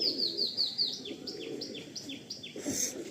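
Andhra pigeons in a loft give a run of quick, high chirping calls, fairly faint over a low background murmur.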